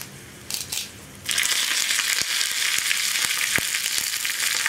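Dried red chilies and curry leaves dropped into hot oil for a tempering, a soft rustle giving way to a loud, steady sizzle with a few sharp crackles, close and continuous, no talking.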